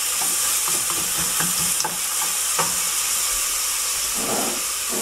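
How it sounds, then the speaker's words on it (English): Onions fry in a hot pan for paya soup, giving a loud, even sizzling hiss with faint stirring clicks throughout. "when this onions get fried, put it on a skim and let them get fried"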